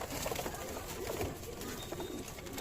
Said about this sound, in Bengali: এইসব পায়রাগুলো এখানে আছে